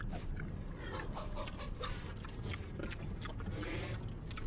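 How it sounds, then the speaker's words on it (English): Ghost pigs in The Secret of Monkey Island video game make repeated grunting, oinking snorts in quick succession. They sound close and fairly quiet, over a continuous low background. "ghost pigs."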